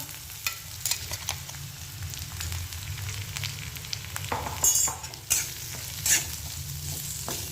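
Sabudana khichdi with potatoes and ground peanuts being sautéed and stirred in a pan: a steady close sizzle with repeated scraping strokes of the spoon, several louder clatters against the pan, and no talking.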